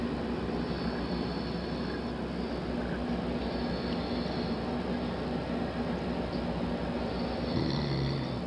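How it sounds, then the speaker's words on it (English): Snoring in a home recording from a person lying as if asleep: a steady, noisy stream of low breathing rumbles, muffled and hissy, continuing evenly with no talk. "I just heard a whole bunch of snoring"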